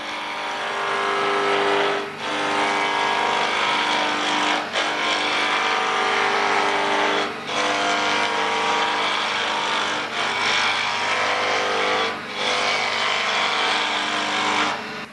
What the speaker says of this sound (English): if you are going to use a scraper to rough down a spindle, just go very slowly